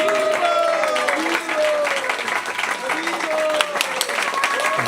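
An audience at a Bhakti school program at ISKCON Brooklyn breaks into applause, a dense wash of clapping throughout while a voice speaks over it.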